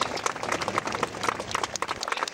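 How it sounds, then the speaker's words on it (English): Crowd applause at the Duxford Flying Legends air show, a steady dense patter of clapping lasting throughout, moderately distant and fairly quiet in the open air. "let's have some real applause for the people that put that together"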